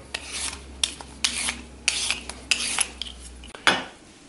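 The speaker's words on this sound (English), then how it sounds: "First thing is just peel your potato." A peeler scrapes across a potato in a series of short, quiet rasping strokes at an uneven pace, close by, with no talking.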